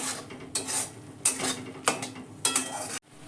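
Spice paste is fried and stirred over a full gas flame after a splash of water from the rinsed spice bowl, with a steady sizzle and repeated scraping strokes of a spatula against the pan, close and rhythmic.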